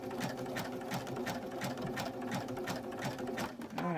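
A sewing machine stitches fabric onto a rope bowl, its needle running in a steady, rapid mechanical rhythm close by, with no talking.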